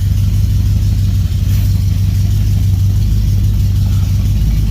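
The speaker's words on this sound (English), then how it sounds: "Whole truck been idling good, just putting along." Truck engine idling, a steady low rumble with a constant hum, loud and close, holding an even note throughout with no revving and no voices.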